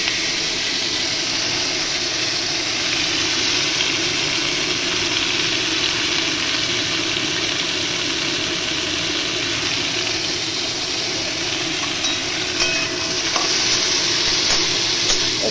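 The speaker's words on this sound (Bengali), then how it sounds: "এটা পেঁয়াজটা মোটামুটি ফ্রাই হবে, ওগুলো মোটামুটি ভাজা হবে।" Onion, tomato, ginger and garlic paste sizzles steadily in hot oil while being stirred for shahi paneer, a close, constant frying hiss with occasional scraping toward the end and no talk.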